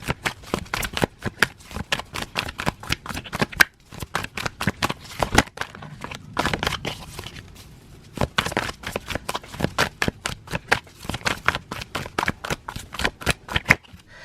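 Tarot cards are shuffled by hand close up, a rapid series of crisp riffling slaps and flicks in quick bursts with brief pauses between, clear and alone.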